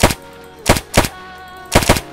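MP40 submachine gun fire in a Free Fire-style match played in Minecraft, heard as four loud short bursts of rapid shots spaced about half a second to a second apart, with no talk over them.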